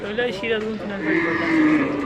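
Cattle moo close by at a livestock market, a couple of long, drawn-out low calls over a faint background of crowd noise.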